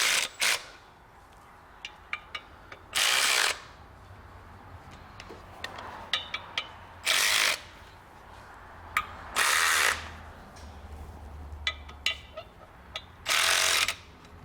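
A power tool slowly undoing Torx bolts on a Citroen C5 clutch runs in four short, loud bursts, with light mechanical clicks and clatter in between.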